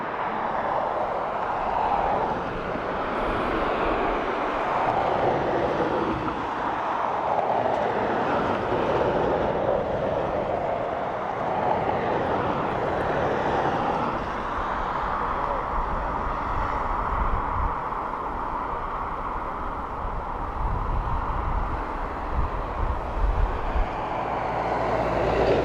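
An Airbus A321 airliner at Dublin Airport gives a loud, continuous engine roar for the whole stretch. Its broad rushing noise shifts slowly as the plane passes, with no voices.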